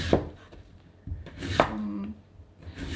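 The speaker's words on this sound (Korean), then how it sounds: "무채 써는 것보다는 조금 두툼하게 썰어 주시는 게 좋아요" A knife with a Chinese cleaver-style blade cuts radish into fairly thick strips on a cutting board, giving a few separate chopping thuds with scraping between them, close and clear, with no talk.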